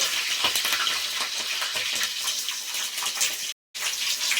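Green chillies crackle and sizzle as they fry in a pan for mutton biryani, a dense, steady spitting hiss with scattered pops, briefly cutting out near the end.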